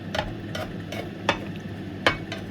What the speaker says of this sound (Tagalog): Haluin natin. Gumagalaw ang aking kawali.